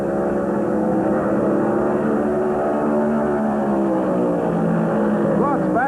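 NASCAR Winston Cup stock cars racing in the 1974 Southern 500 at Darlington Raceway, a steady loud engine roar with shifting harmonic drone as cars streak down the backstretch, with a commentator talking over it.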